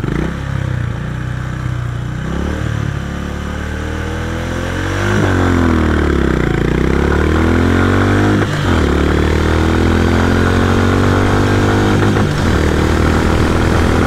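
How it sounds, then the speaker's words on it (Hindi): A Honda CB 350 RS motorcycle accelerating hard during a 0-100 acceleration test, its engine note climbing through the gears in repeated rising sweeps with brief dips at each shift, loud and close with no talk. "अब इस बाइक का करते हैं एक्सेलरेशन टेस्ट 0-60, 0-100"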